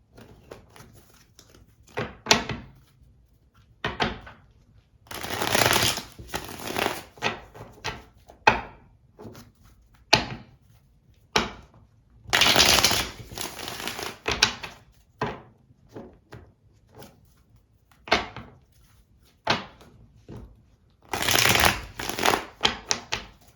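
Tarot cards being shuffled and handled in repeated bursts of riffling and slapping, close and clear, separated by short quiet pauses.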